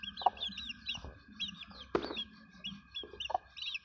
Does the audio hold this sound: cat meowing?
no